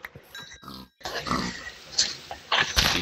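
Pigs in the Minecraft world grunt in a few short, close bursts, with brief pauses between them and no talk over them.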